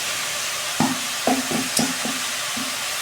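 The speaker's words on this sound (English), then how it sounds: "So now we're adding tomatoes" Tomatoes, carrots and okra go into a pot of beef boiled with sweet pepper, onion, ginger and salt, giving a few short close knocks and scrapes of a spoon in a quick uneven series over a steady background hiss.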